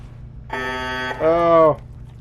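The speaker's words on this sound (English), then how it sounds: "There's one thing I hate in video games, is when they put a klaxon alarm on." Klaxon alarm in the video game Fallout 4, heard as two loud electronic honks: a flat buzzing tone, then a lower, stronger blast, over a quiet background hum.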